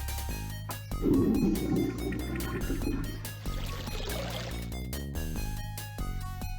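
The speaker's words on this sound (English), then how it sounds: "I don't need the rest of the sandwich potion anymore, so I can just flush that." A potion poured out of a flask in the Legend of Kyrandia adventure game, a burst of bubbly gurgling liquid over steady game music, with no one talking.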